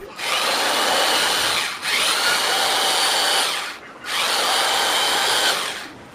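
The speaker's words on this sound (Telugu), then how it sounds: "తర్వాత డ్రిల్ చేసి" A power drill drilling into a wall to mount a Dyson V11 charging plate whines at high speed in three sustained bursts, each about two seconds with short pauses between, close and loud.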